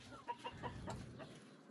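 Hens cluck softly in a few short, quiet clucks as they settle to roost, faint and somewhat distant against a low background hiss.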